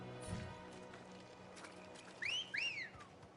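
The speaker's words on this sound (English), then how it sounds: "Yep, good old chocobo whistle." Chocobo whistle in the video game Final Fantasy 16: two quick rising whistle chirps in a row, fairly loud over a soft bed of game ambience.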